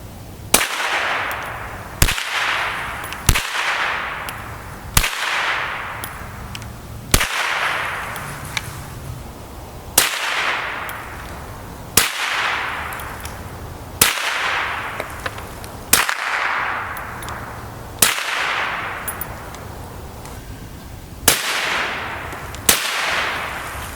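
A .22 pistol fitted with an El Camino 22 suppressor fires a slow, evenly spaced series of about a dozen sharp, loud cracks, each followed by a brief ringing decay, with no talking.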